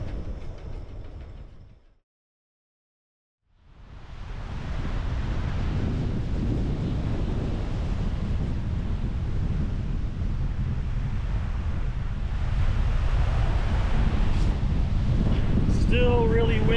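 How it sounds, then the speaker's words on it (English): Strong Hurricane Ian winds roar and buffet a microphone aboard a sailboat, mixed with rushing waves in a loud continuous wash broken by a brief dropout, with faint creaks near the end. "It's like 60-mile-an-hour winds here, and I just can't safely get onto the boat again."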